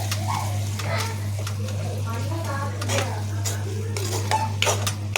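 Something frying over a low flame in a pan on a home stove, with stirring scrapes and utensil clinks over a steady hum, the sizzle faint beneath the clatter.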